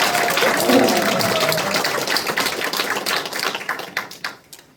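Audience at a launch ceremony for a regional basic society committee gives dense, sustained applause welcoming a National Assembly member, thinning into scattered claps toward the end.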